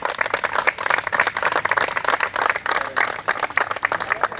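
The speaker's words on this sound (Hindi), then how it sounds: "जोरदार ताली।" Loud, continuous applause and clapping from a crowd at a celebration of Lakshya Physical Academy, Hulasganj, in Nalanda district, sustained dense hand claps throughout.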